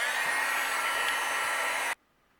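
A heat tool blows with a steady, loud whooshing hiss for about two seconds over a stamped card panel, then cuts off abruptly into near silence.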